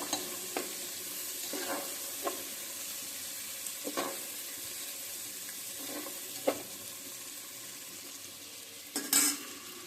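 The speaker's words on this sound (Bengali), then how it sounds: "পেঁয়াজটা একটু ভাজা হোক" Onions frying in a pan for a biryani, with a steady soft sizzle and several sharp stirring scrapes and clatters spread through the clip, louder near the end; no voices.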